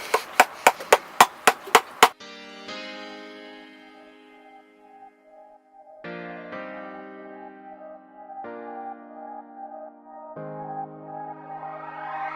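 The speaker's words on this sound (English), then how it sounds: "we're using a screwdriver and a hammer" Seven quick, sharp strikes of a hammer driving a screwdriver on a boat, close and loud, followed by long sustained ringing tones that fade and return several times.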